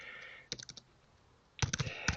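A few short flurries of clicking keystrokes on a computer keyboard while typing a welcome email, quick taps in two bursts separated by a brief pause, close and fairly quiet.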